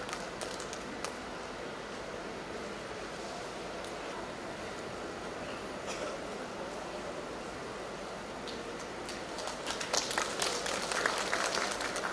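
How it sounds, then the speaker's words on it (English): Applause from an outdoor audience at a ceremony marking a riverfront makeover in Shillong, a steady broadband patter of clapping that swells louder toward the end. "can you give a big round of applause for all our beneficiaries here?"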